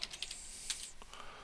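Keystrokes on a computer keyboard while entering annotations in an AMR editor, a quick cluster of light, sharp clicks at close range, spaced irregularly over a quiet background with a faint steady hiss and no voices.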